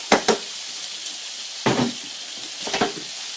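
A curry mix of several meats sautéing in a pan, a steady close sizzle broken by three louder bursts of stirring and scraping, with no talking.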